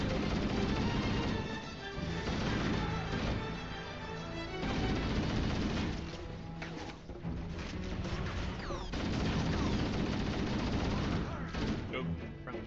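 Video game gunfire with friendly fire, dense and loud bursts of shots and crashes packed together throughout, with speech mixed in among the shooting.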